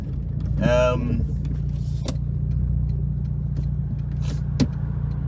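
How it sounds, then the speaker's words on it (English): Idling 2006 Acura RSX Type S fitted with an N1 catback exhaust and aftermarket intake, a steady low exhaust drone throughout with a brief voice early on. "we have a NVIDIA N1 catback exhaust on this, some random eBay intake that the homie hooked us up with"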